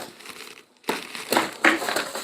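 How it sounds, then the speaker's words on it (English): Tarot cards are shuffled inside a box, a close, quiet stretch of papery scraping and crinkling that pauses briefly, then returns in louder bursts of rustling and rubbing. "give it a good shuffle in here"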